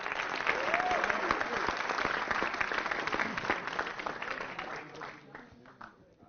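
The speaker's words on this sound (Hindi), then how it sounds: "स्वागत भी तालियों से हो" A Hindi-speaking audience applauds to welcome a speaker onto a stage at a political poetry gathering; dense, continuous clapping that slowly thins and fades toward the end, with a few voices mixed in.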